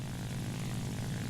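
Propeller fighter plane engine in War Thunder, a steady, loud low drone of the piston engine and airscrew filling the whole moment with no voices.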